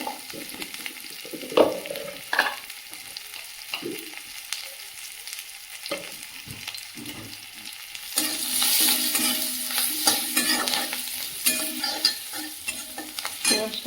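Scattered stirring clatter and soft scrapes give way to a louder, steady sizzle of spinach frying in a hot pan with turmeric, with occasional spatula knocks.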